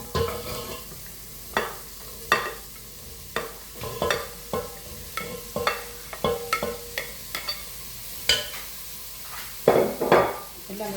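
Vegetables for chicken fried rice are stirred and fried in a pan, with repeated scraping, clanking strokes of a utensil against the metal in an irregular rhythm over a soft background sizzle, close by.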